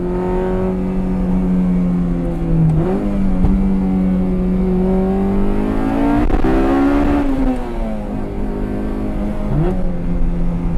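A Honda CR-X Si engine revs repeatedly, pitch climbing and dropping with each throttle blip over a steady loud drone, close up and continuous.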